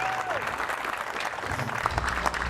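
Audience applause at an outdoor memorial car show, a broad steady patter of clapping from a crowd that holds even for a couple of seconds with a few sharper claps near the end.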